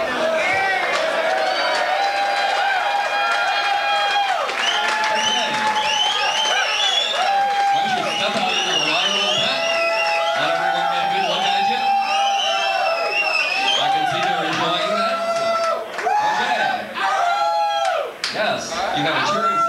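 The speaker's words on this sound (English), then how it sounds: "You have a cheering section." An audience at a 1993 leather contest cheers and whoops for a contestant, loud overlapping shouts, whistles and clapping in a reverberant room, sustained for most of the stretch before tapering.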